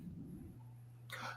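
A single sharp sneeze bursts out near the end, close and fairly loud, following a low steady hum with some faint background murmur.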